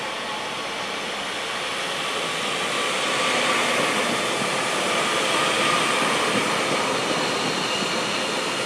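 A Class 331 electric multiple unit travelling from Manchester Airport to Blackpool North gives a steady, broad rushing roar. The sound swells slightly midway and holds loud and continuous with no talk.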